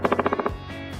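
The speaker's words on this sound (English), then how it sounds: "They use their beaks to drum on trees," Woodpecker drumming its beak on a tree, a rapid burst of about six sharp knocks in quick even rhythm, then stopping.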